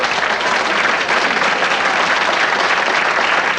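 A studio audience at a television talk show breaks into applause, a dense, even wash of clapping that holds steady and fairly loud across the few seconds.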